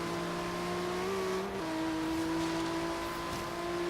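A Lamborghini Aventador in Forza Horizon 3 races with a steady, droning engine tone that holds, dips briefly as it shifts, then settles into a sustained roar at moderate level.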